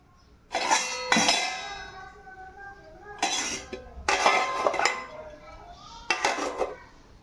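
Mustard seeds and cumin from a spice box tipped into a pan with boiled drumstick pods, giving bright metallic clinks and rattles in three short bursts separated by pauses.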